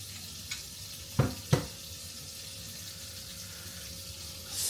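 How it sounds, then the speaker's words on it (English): A grilled cheese sandwich fries in butter in a pan with a steady soft sizzle, broken by two brief pressing or scraping knocks near the start and a hiss swelling at the end. "Into the pan, push down. Get that butter soaked into the bread."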